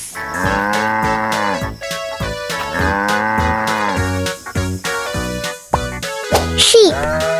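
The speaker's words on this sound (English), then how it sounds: "Ox." An ox mooing in long, loud, drawn-out lowing calls, two sustained bellows followed by shorter grunting sounds, close and clear against a musical backdrop.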